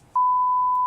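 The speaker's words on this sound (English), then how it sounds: "This beeping noise was actually just the low battery sound from the smoke detectors in the Turpin's home." A smoke detector gives its low-battery warning as a single steady, clear electronic beep that starts abruptly and holds at an even pitch, loud and close, with no voices around it.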